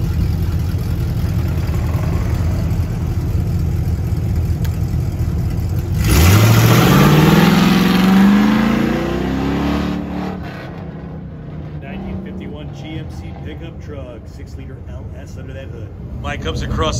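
A freshly resurrected 1974 Corvette with a 350 engine at a Goodguys autocross rises in a loud rev around the midpoint, a brief acceleration over steady crowd-and-wind noise, with a commentator talking throughout.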